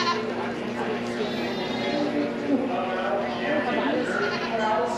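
Goats bleat repeatedly at a goat show at the Sandwich Fair, a dense crowd of overlapping cries close and loud with continuous background chatter from people.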